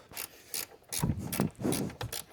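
Ratchet turning a very long bolt during a K&N Typhoon cold air intake install on an S650 Mustang, heard as several short bursts of clicking with quiet pauses between them, close and fairly loud with no talking.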